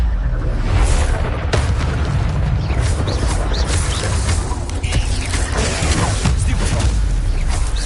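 Incendio fire spell casting in Hogwarts Legacy gives loud, dense whooshing bursts and fiery crackles with booming impacts, layered over continuous combat noise and rumble.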